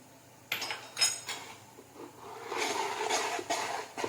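A spoon clinks and scrapes against a metal bowl while dhokla batter is stirred after hot oil goes in, a few sharp knocks at first, then a busier run of scraping and clattering, close and fairly loud.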